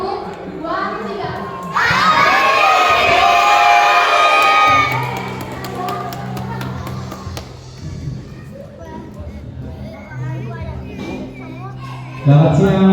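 A crowd of children at a church Easter celebration shouts together on cue, long and loud with energy, then breaks into scattered chatter and more shouting while an adult speaks over them.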